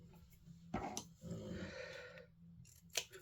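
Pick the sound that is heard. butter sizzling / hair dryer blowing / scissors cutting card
scissors cutting card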